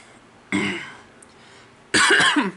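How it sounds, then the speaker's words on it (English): Two rough throat-clearing sounds close to the microphone, a softer one followed by a louder, harsher one after a short pause. "Sorry, I'm going to clear my throat a little bit."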